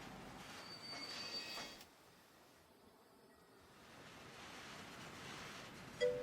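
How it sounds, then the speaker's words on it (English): Trains in the Transport Fever 2 video game rumble along rails with faint wheel squeal and clatter, quiet and continuous, easing briefly in the middle before building again. "I thought I just gridlocked my trains for a second there"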